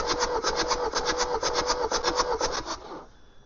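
A 2019 Ford Transit van's engine turns over on the starter during a compression test, giving a loud, steady rhythmic chugging of about a dozen even beats before it stops abruptly near the end.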